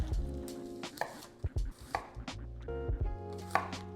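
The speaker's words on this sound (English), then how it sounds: "we'll go ahead and slice up some onions" Thin onion slices cut with a knife on a board ahead of a surf and turf burger, several distinct chopping knocks in an irregular rhythm, close and fairly clear, no talking.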